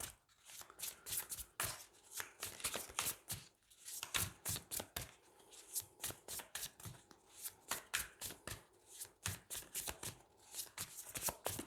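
Tarot cards are shuffled by hand close up, a run of crisp, rapid riffling and slapping bursts in an uneven rhythm, with no talking.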